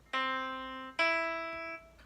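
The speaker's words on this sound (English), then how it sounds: "Now, the next interval is called a third, or do mi, and it sounds like this." Two sustained, bright tones played one after the other, a lower note rising to a higher one a third above, like do to mi, clean and close with no talking.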